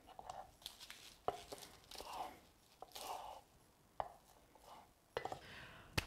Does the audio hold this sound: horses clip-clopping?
no